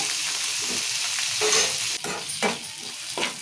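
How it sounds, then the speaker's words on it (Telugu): Tomatoes and onions frying in hot oil in a pan, a continuous crackling sizzle with occasional louder stirring scrapes and bursts, close and steady. "టమాటాలు ఉల్లిగడ్డలు మంచిగా నూనె ఉడకాలి"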